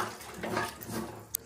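Water poured into a pan of fried potatoes with spices for a white potato dum, a brief soft splashing pour with a faint sizzle, close and fairly quiet, no voices.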